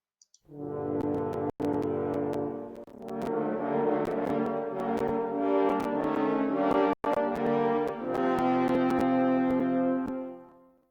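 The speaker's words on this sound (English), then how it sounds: "So that's the French horn" A French horn sounds the slow, sustained, ominous wolf theme from Peter and the Wolf over orchestral backing, with a couple of brief clicks breaking in.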